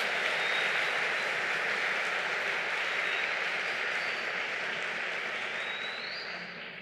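Sustained applause from a church congregation during a sermon, a steady wash of many hands clapping that fades slightly at the end.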